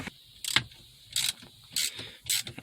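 A ratchet tightens a bolt on a 2015 Jeep Cherokee shifter, with four short bursts of close clicking separated by brief pauses.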